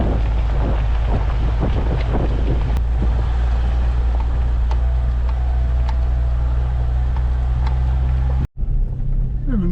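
A car drives up a dirt road through trees, its steady low engine rumble mixed with wind buffeting the microphone, with a brief dropout near the end.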